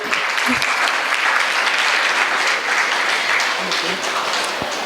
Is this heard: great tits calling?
no